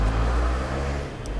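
A car engine drones loud and close throughout, a dense steady low hum held at high revs with no pauses and no talk.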